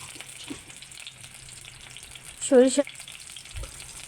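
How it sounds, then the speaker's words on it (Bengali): Boiled beef tempered in hot mustard oil, a steady frying sizzle close by with a few clinks and a brief tonal squeak partway through. "সরিষার তেল দিয়ে বাগার দিতে হবে"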